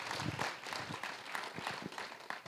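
An audience at a fireside chat event claps steadily throughout, a dense continuous patter of hands filling the room without pause.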